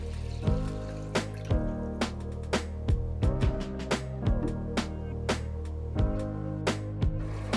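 Half a cup of mung beans is rinsed and set to soak in plenty of water, with close, irregular splashes and sharp wet taps repeating against a soft running-water background.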